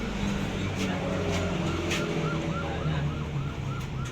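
Fire trucks arriving at a neighbourhood fire in La Cruz, San Bartolome, sound wailing sirens that sweep up and down continuously over steady traffic and crowd rumble, with faint voices in the background.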